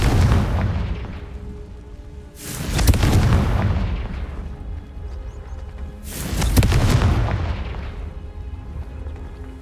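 Two heavy booming blasts from Confringo fire spells in Hogwarts Legacy, each a loud, deep explosion with a rumbling tail, several seconds apart, with no talking.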